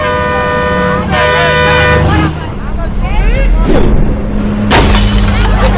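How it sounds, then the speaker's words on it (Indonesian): A thrown stone smashes a bus window in a dramatic film scene, a loud crash of breaking glass cutting through long, blaring horn-like tones and a dense, noisy backdrop. "Karena kaca bisnya pecah, bis itu kemudian berhenti."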